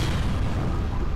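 A loud, close explosion in the video game Serious Sam 3: BFE, a dense, roaring boom that fills the whole short moment with no talking over it.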